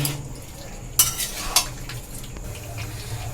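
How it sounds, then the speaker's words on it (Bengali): Boiled chickpeas cooked with spices in a pan for chana masala, with a soft sizzle underneath and two sharp scraping clinks of a spoon against the pan as it is stirred. "মশলার সঙ্গে আমি ছোলাটাকে ভালো করে কষে নিচ্ছি"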